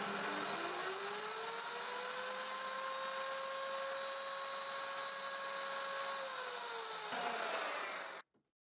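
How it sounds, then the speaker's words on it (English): A wood router fitted with a small bit cuts a mortise about 5 mm deep for a full mortise chest lock. Its high motor whine runs loud and steady for about eight seconds, then cuts off abruptly. "I adjust the depth stop to about 5 mm, and I route a mortise between the marks."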